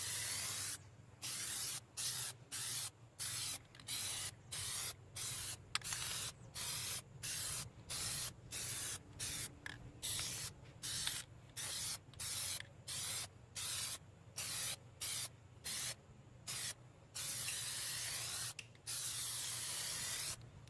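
An aerosol can sprays Plasti Dip rubber coating onto car wheels in about twenty short, loud, hissing bursts separated by brief pauses, with no talking.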